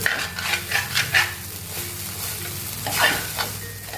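Sabudana khichdi being stirred in a pan, with a soft steady sizzle of frying underneath and a few spoon scrapes against the metal standing out near and moderately loud; no talking.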